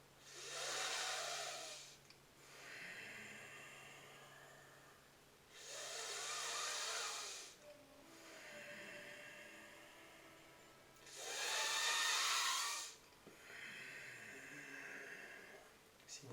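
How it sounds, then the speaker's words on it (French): Three long hissing inhalations drawn through clenched teeth during Shitkari yoga breathing, evenly spaced with quiet pauses between them and heard close up. "Shitkari, qui consiste à fermer les dents les unes contre les autres, ouvrir la bouche et respirer à travers les dents"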